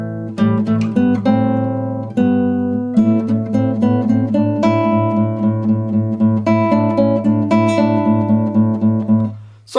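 An acoustic guitar in standard tuning plays the opening line of the Assassin's Creed Black Flag main theme, with open-string bass notes ringing under a plucked melody. It is close and clear, with no voice, for about ten seconds.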